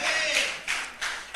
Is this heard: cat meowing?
no